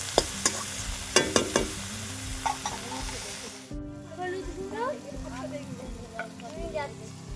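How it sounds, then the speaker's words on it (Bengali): Vegetables and dried shrimp are stir-fried in a pan with a moderate sizzle and stirring clatter. People talk over the cooking, and a sharp pan noise comes near the middle. "একসঙ্গে ভালো করে নাড়িয়ে চাড়িয়ে নিয়ে সবজিগুলো দিয়ে দেবো, একটু ভাজা ভাজা হতে থাক"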